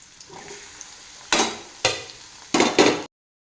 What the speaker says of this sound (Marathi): तोंडली आता छान तेलामध्ये फ्राय झालेली आहे यामध्ये मी आता एवढे टमाटर घालत आहे